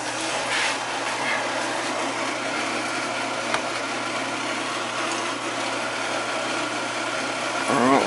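An air conditioning unit or furnace hums steadily once its power is switched on, a constant mechanical drone with a brief click partway through and a slight swell near the end.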